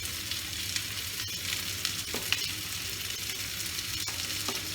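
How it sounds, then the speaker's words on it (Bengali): Four onions fry in a tablespoon of oil for chicken curry, a continuous close sizzle with scattered crackles and a few light clicks of stirring, no voices. "আমি 1 টেবিল স্পুন দিয়ে 4টে পেঁয়াজ ভাজছি।"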